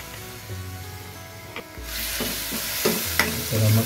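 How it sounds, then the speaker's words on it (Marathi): Ground masala paste for shevla, a wild monsoon vegetable, hits a hot pan and sizzles loudly while a utensil stirs and scrapes it, with the frying hiss swelling after a quieter start. "मस्त मसाला व्यवस्थित एकदम परतून घेऊ."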